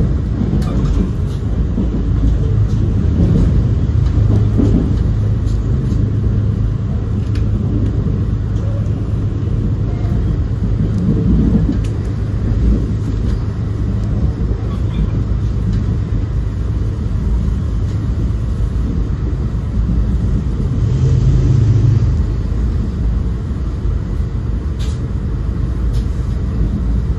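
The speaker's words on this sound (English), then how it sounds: "was a no-passenger M7A train." No-passenger M7A electric commuter train running on a Southwestern Connecticut line toward Danbury, a steady loud low rumble and roar throughout with brief swells, heard from aboard, no voices.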